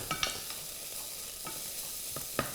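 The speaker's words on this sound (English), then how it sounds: "So we're gonna add a little bit of garlic to this." Garlic sizzling in a hot frying pan for masala pork chops, a steady close hiss with a few stirring scrapes and clicks.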